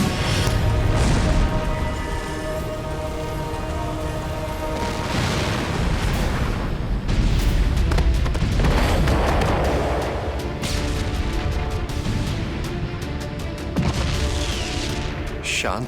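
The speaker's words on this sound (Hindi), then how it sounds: "शांत कैलाश पर यह विस्फोट की ध्वनि।" Booming explosions and crashing blasts on Mount Kailash, a sacred Himalayan peak under attack, with loud dense impacts recurring throughout amid a rumbling dramatic score and dramatic voices.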